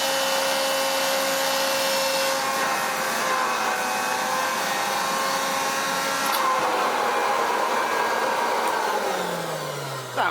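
A Hoover Junior 375 upright vacuum cleaner runs with a loud, steady motor whine and airy roar, close and continuous, with the pitch dropping slightly near the end.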